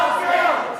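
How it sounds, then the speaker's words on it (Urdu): A crowd of protesters in the United States over health care law chants a slogan in unison, a loud sustained roar of voices rising and fading over under a second. "نعرے لگاتے ہوئے مظاہرین"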